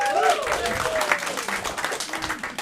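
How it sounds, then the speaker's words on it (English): Audience applause and clapping at a Chicago comedy club, a short scattered burst of hands from a crowd with voices mixed in over it. "Clap it up if you got fears."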